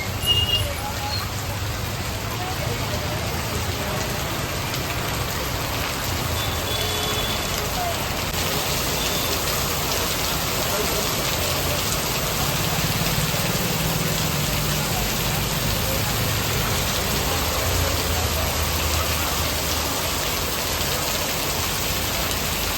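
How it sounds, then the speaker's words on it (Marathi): Heavy monsoon rain pours steadily outside a bakery in Dhayari, a dense, unbroken hiss of downpour on surfaces that stays close and fairly loud throughout. "तर मित्रांनो, आता लय जोरात पाऊस होतोय."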